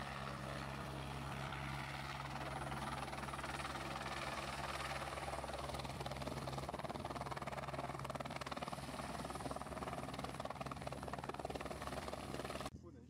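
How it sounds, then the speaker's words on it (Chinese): A helicopter's rotor drones steadily at a moderate distance as it takes off and lands near Aso in Kyushu, Japan, a continuous whirring engine roar, with a voice talking over it. "这里可以看到不远处直升机的起降。"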